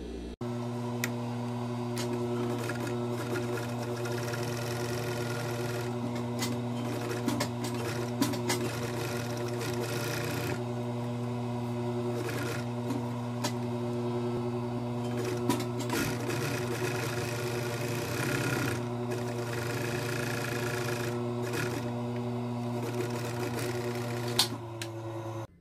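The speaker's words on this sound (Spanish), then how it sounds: "vamos a coserle la over o el zigzag para darle el acabado correcto aquí" Sewing machine running an overlock or zigzag stitch along the edge of a fabric pocket bag, a steady continuous mechanical whir with fine ticking that runs unbroken throughout, close and moderately loud.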